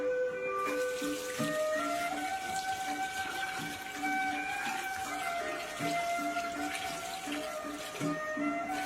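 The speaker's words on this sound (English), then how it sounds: "And we're gonna add 3 cups of water." Water poured into a pressure cooker with black cardamom, green cardamom and black pepper for a beef samosa filling, a steady running splash with a rising pitch as the pot fills, moderately quiet with no talking.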